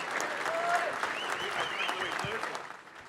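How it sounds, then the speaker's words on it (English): A lunch audience at a 1979 Premiership team reunion applauds the former players, steady clapping of moderate loudness with a few voices and whistles over it, tapering near the end. "Give them a round of applause."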